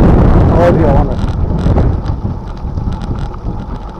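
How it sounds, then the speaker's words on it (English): Wind buffeting a microphone out on the water, a steady low roaring rumble that fills the whole stretch, loud and close, with a faint voice under it at the start. "the wind's against me on the way out"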